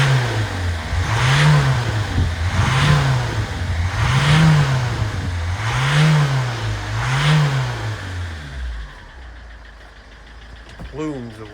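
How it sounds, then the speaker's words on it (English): A Citroen C5 engine, smoking heavily, revs repeatedly in slow rising and falling surges, five or so cycles, then settles toward idle, with a voice talking over it. "Obviously I'm revving the engine"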